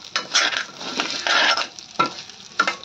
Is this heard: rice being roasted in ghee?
yes